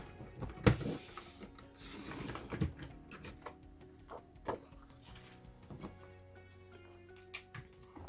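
Paper being cut on a craft paper trimmer, with a few brief sharp slicing and clicking sounds near the start and scattered light mechanical taps after, fairly quiet throughout.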